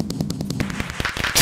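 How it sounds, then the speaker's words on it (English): Fireworks popping around a creeper in vanilla Minecraft, a string of sharp crackling bursts, with a louder cluster of bangs near the end and no talk. "whenever we get close to a creeper, there's fireworks that go off where the creeper is located"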